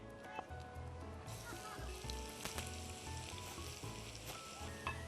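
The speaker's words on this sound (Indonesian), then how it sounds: "Saya mau menggoreng ini dulu, sereh." Steady oil sizzle of lemongrass frying in a pan, continuous crackling with small pops, close and moderately loud, no voices.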